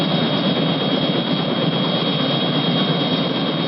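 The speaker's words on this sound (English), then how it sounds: "isn't that your helicopter over there?" A helicopter flies overhead, a loud, steady engine roar that holds at an even level throughout with no other sounds.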